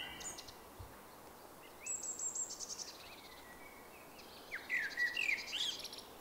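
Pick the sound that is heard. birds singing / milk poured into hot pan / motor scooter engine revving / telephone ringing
birds singing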